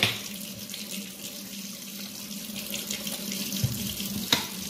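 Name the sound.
rinsing makeup brush under running tap water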